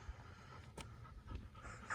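A dog pants steadily outdoors on a walk along the Ridgeway, Britain's ancient track, with quick breathy huffs running through the whole stretch over a low wind-like background.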